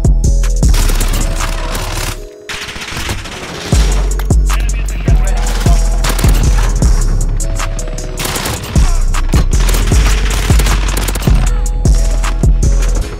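Rapid bursts of automatic gunfire from the Fennec submachine gun in Call of Duty: Modern Warfare, loud and close, repeating in quick strings over a steady low hum.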